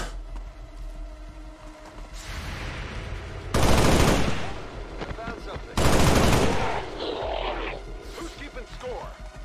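Gunfire in XCOM 2, a Slugshot fired at a sectoid: two loud heavy bursts of shooting erupt and decay over a rumbling backdrop, with lighter crackles trailing after and a voice talking under the sound.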